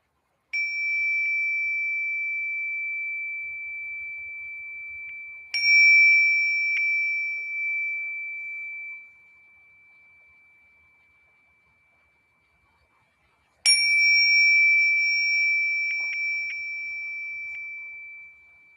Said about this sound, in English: I will close our practice with my bell.